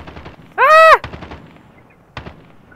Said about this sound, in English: I hear shooting.